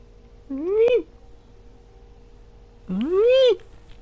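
Two distinct cat meows, the first short and the second longer and rising, each loud and close with a clear tonal cry, separated by a quiet pause over a low steady hum; no one talks.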